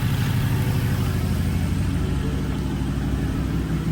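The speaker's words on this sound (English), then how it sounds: "I'm gonna let this idle for a couple minutes" A BMW car with the N63 engine idling after a coolant leak repair, a steady low rumbling drone close by that stays even throughout, with no talking.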